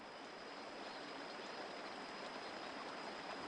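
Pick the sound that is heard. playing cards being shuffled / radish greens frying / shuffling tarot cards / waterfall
waterfall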